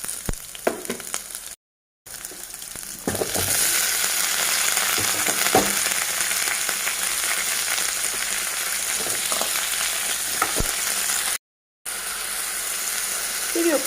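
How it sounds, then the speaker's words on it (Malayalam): Onion and tomato sautéing in a pan for tomato chutney, a steady loud sizzle that swells after a few seconds, with occasional stirring scrapes and two brief dropouts. "അതിൻ്റെ കൂടെ തക്കാളിയും കൂടി ഇട്ട് വഴറ്റാം"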